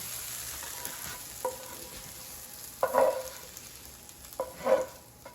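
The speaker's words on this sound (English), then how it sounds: "And let's remove okra from the frying pan." Short bursts of sizzling and scraping as sauteed okra is stirred and lifted from a hot frying pan, three distinct clatters over a soft frying hiss.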